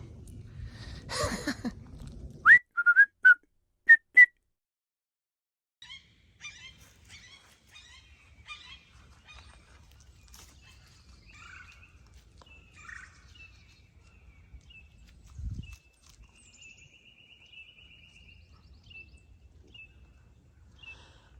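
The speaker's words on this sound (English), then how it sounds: "There's a hawk sitting in this tree right above me, making the really coolest noises." A hawk perched in a tree overhead gives a few short, sharp calls and scattered chirps, moderately distant, over low outdoor rumble with no talking.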